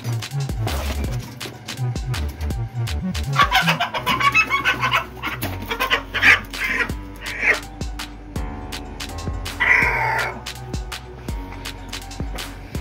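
Rooster and chickens clucking and calling at close range, with irregular bursts and a crow-like call among other bird sounds and background noise.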